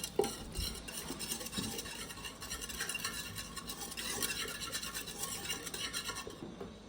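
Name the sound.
stirring cooked dal in pressure cooker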